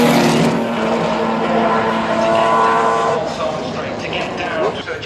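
McLaren F1 GTR race car at the Goodwood Festival of Speed, a loud sustained engine roar that swells and holds before easing off, with crowd and ambient noise underneath.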